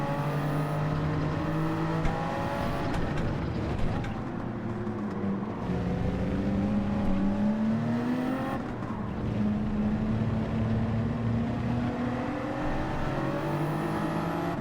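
Racing car engine in Gran Turismo 7, an AMG, revving and shifting, the pitch sweeping up and down repeatedly as the car accelerates and brakes, loud and continuous.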